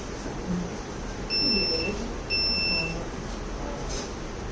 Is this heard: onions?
no